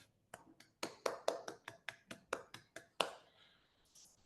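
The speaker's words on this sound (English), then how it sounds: "Let us give a big round of applause for Sourav." Applause in an online meeting, about a dozen crisp, evenly spaced hand claps heard close through a microphone, thinning out after the last clap.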